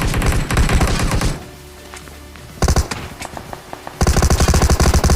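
Gunfire in a battle royale video game: loud, rapid bursts of automatic fire, then a lull with a few scattered shots, then another heavy burst close by.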